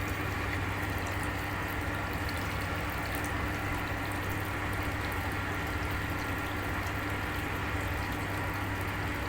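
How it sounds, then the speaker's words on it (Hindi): Water pouring steadily into a cement plaster mix, a continuous even rush and trickle that stays close and unbroken throughout, with no voices over it. "ये जो पानी आ रहा है ये देखें"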